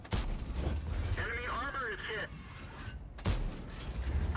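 A World of Tanks tank gun fires in a booming burst, followed by a whining, warbling mechanical tone and then a second heavy blast near the end, with a voice speaking over the gameplay.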